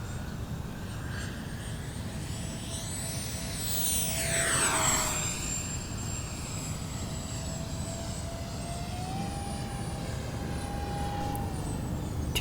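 An XFly A-10 Thunderbolt II RC jet with twin 50mm electric ducted fans flies past, its steady high whine rising and then sweeping down as it passes close, then staying level at a distance over wind noise.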